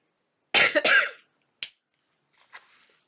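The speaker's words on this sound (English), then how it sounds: "I'm sorry, I keep coughing." Several coughs in a quiet room: a loud double cough, then a single short cough, then a faint final cough, spaced apart with silence between.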